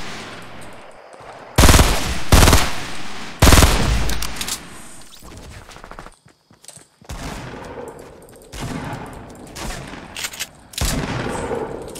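Video game gunfire rings out in loud, sharp bursts and sustained automatic volleys, with strong shots near 2 and 3.5 seconds and more scattered firing and clatter through the rest.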